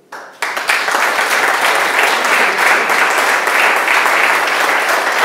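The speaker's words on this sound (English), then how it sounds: "so I want to ask another applause, because they are really amazing" An audience at a conference session on creative solutions breaks into loud, sustained applause after a brief quiet start. Dense clapping holds steady and close for several seconds with no speech over it.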